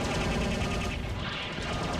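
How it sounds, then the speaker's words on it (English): Gunfire in the video game Robotech Battlecry, a steady loud continuous rattle of shots with no break. "Gunshots and missiles."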